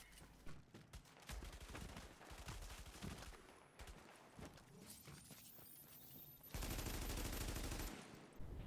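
Gunfire exchanged in The Division player-versus-player combat, including an enemy's rifle, crackles as dense rapid bursts throughout, swelling to a loud sustained volley near the end.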